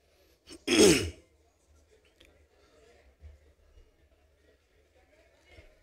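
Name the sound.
coughing fit, throat clearing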